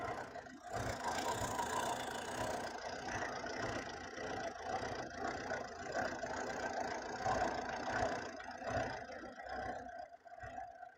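A 2015 Tata Vista TDI diesel car engine idling, a steady mid-pitched rumble with faint knocking texture that holds at an even level for the whole stretch, with no voices over it.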